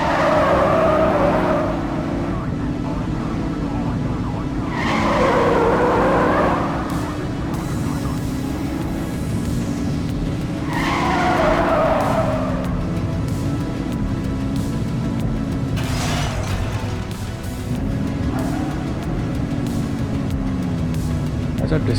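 A car drifting in the police video game The Precinct, with a steady engine drone and repeated bursts of tire squeal and skidding at intervals as the car slides through turns.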